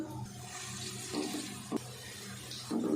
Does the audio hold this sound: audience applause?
no